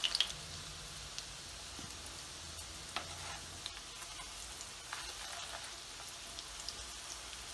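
Precooked reshay wale shami kababs fry in a pan with a faint, steady crackling sizzle. Occasional soft pops and spatters rise above it.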